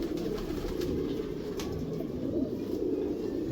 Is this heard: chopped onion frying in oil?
no